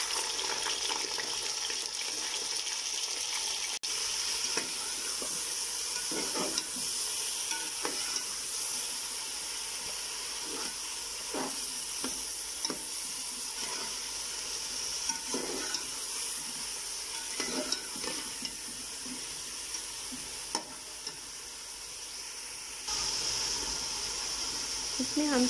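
Chicken pieces frying with browned onions in a pan, a steady low sizzle broken by scraping stirs and occasional clatter, with a faint voice talking in the background.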